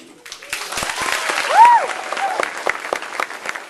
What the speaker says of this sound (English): I didn't need to talk over your applause